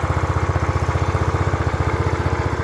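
A Mondial Lavinia 125 motorcycle idles close by with a steady, even low-pitched pulse from its stock exhaust, alone and unchanging throughout.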